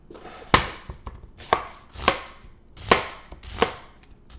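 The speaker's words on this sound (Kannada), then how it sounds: "ಇದೆಲ್ಲ ಆದಮೇಲೆ ಇದಕ್ಕೆ ಸ್ವಲ್ಪ ಈರುಳ್ಳಿ ಹೆಚ್ಕೊಂಡು ಹಾಕ್ಬಿಡೋಣ." An onion being chopped with a knife: six sharp, close strikes on a cutting board at an unhurried, slightly irregular pace, with quiet gaps between them.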